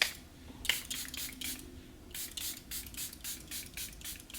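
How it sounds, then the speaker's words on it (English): Charlotte Tilbury Flawless Setting Spray misted onto a face, a string of short, crisp hissing spritzes in quick succession, close and clear over a quiet room. "I'm going to use a Charlotte Tilbury Flawless Setting Spray"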